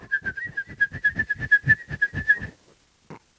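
A person whistles a rapid run of short, bright notes, stepping between two distinct pitches in a quick rhythm for about two and a half seconds, close and clear, then stops.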